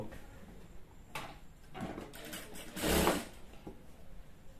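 A sewing machine runs in short, faint bursts of stitching on a salwar joint, with quiet pauses and small handling clicks between runs.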